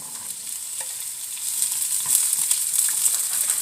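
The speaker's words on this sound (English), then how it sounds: "I'm just going to saute these until they're tender" Purple beans saute in a frying pan, giving a continuous bright sizzle with soft stirring scrapes, close and steady, growing slightly louder partway through, with no voices.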